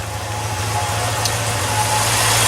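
A 1960 Triumph TR3 engine with Weber carburetors idles steadily around 850 rpm with a low, even rumble and broad hiss, no voices.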